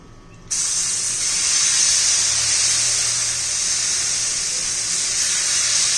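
Jowar flour dosa batter cooks on an oiled pan. After a brief silence a loud, bright sizzle starts abruptly and continues as a steady hiss to the end, with no speech.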